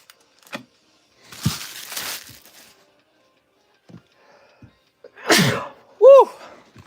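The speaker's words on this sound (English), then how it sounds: "Oh, I got to sneeze" A single loud sneeze from a man, set off by dust while he handles trading cards, preceded by a sharp inhale and followed by a brief high vocal exclamation in an otherwise quiet room.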